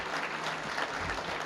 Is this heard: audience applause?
yes